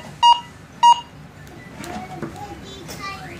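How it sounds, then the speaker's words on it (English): A Go Find 60 metal detector gives two short, clear beeping tones for a good coin signal during an air test, followed by quieter background sounds and a voice. "it's shallower, it's ringing up as a good coin signal"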